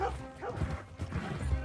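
A dog barks a few times in Red Dead Redemption 2 gameplay, short yelping bursts close by, mixed with game sounds.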